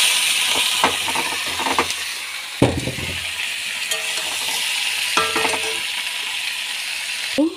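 Lentils dropped into a hot wok with garlic fried red, a loud continuous sizzle with repeated scraping and clacking strokes of a stirring spoon against the pan, no voices present.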